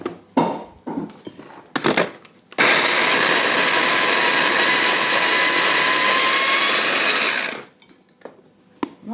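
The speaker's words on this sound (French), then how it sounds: "Là, on va mixer." An electric blender whirs loudly and steadily for several seconds while chopping cabbage and onion for kimchi, preceded and followed by quiet clinks and handling.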